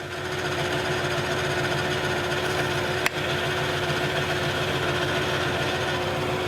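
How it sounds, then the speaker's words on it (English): A metal lathe runs at slow threading speed with the half nut engaged, cutting threads; a steady mechanical hum with a rhythmic low clatter continues throughout, broken by one sharp click midway. "there's your slower threading speed basically. There is the half nut engaged."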